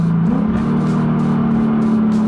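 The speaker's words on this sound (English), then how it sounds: "and I just want to downshift." Modified Lexus ISF exhaust during a downshift, a loud, close engine note that steps up in pitch as the revs rise and then holds a steady drone, heard from inside the car while driving.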